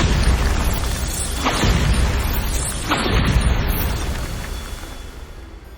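Bombarda spell blasts in Hogwarts Legacy: two deep booming explosions roughly a second and a half apart, each followed by a long rumbling roar that fades slowly, loud and close.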